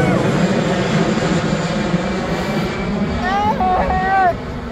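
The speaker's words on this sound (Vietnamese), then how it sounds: "Máy bay to quá các bạn ạ. Khổng lồ, nó ở ngay trên đỉnh đầu mình luôn." A large airplane passing low overhead near an airport, a loud, sustained engine roar with a whining tone that fills the whole stretch, while a person speaks excitedly over it toward the end.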